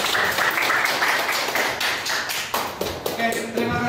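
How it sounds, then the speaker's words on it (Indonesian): A classroom audience claps at a teaching practice session, producing uneven bursts of hand taps that thin out toward the end while voices murmur underneath. "Ya, tepuk tangan."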